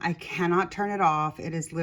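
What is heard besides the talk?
No distinct noise like a dog, phone or traffic.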